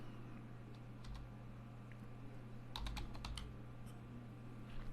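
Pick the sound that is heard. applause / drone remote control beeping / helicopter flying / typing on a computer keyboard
typing on a computer keyboard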